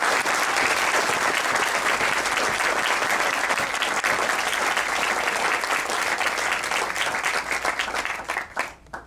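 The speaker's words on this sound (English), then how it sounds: "let's give up one more round of applause for Matthew" An audience at a book signing for a safari guide's memoir applauds in a dense, sustained burst of clapping that holds steady and then tapers off near the end.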